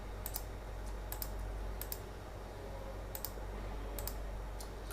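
Sharp mouse clicks while working in Robot truss analysis software on a computer, a few crisp single and double clicks spaced irregularly over a quiet background hum.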